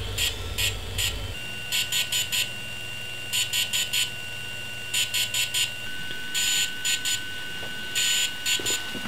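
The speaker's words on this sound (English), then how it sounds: "and then you'll hear constant beep, beep, beep, beep, beep" A DJI Phantom 3 drone beeps during a firmware update, sounding repeated groups of short, sharp electronic beeps in a regular pattern over a faint steady hum, close and clear.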